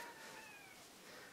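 A pet cat gives a faint, short meow with a drawn-out tonal cry, heard softly against a quiet room hiss.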